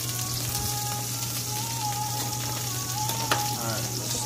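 Garlic shrimp sauce with heavy whipping cream and Parmesan cheese sizzles steadily in a pan, a close, continuous frying hiss with a faint low hum underneath and no talk.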